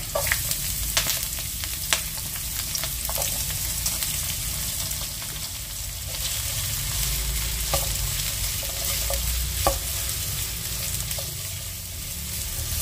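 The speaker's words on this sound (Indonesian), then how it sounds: "ini sekarang kita akan tumis bawang merah." Shallots sautéing in a pan for a rib soup, a steady sizzle and frying crackle running throughout with occasional scrapes and clicks of a stirring utensil, fairly close and uninterrupted by talk.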